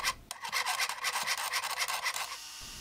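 A brass sheet being cut into a propeller shape gives a steady run of rapid rasping, scraping strokes, loud and close with no voices.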